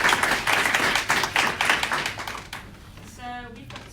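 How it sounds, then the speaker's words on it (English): Audience at a startup founders' briefing giving a short round of applause, with distinct hand claps in quick succession for a couple of seconds before fading into room noise and a brief voice. "round of applause for Lisa."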